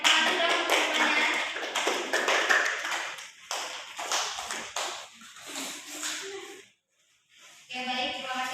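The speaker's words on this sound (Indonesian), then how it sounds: "Silakan tepuk tangan sudah untuk semuanya." Students clapping hands at the end of a Quran and hadith lesson, a brisk burst of close applause that thins into scattered claps, stops briefly, then picks up again.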